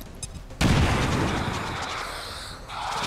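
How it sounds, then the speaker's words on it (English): A grenade blasts in the XCOM 2 video game: one sudden loud boom after a brief quiet lead-in, with a rumbling roar that slowly decays over the next two seconds. "Let's throw the grenade."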